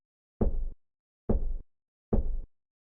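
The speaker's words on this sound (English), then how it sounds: "wait until you hear a quiet knocking noise that sounds like this" Three evenly spaced, quiet knocks sound in the Five Nights at Candy's video game, each a short muffled thud against silence, about one second apart.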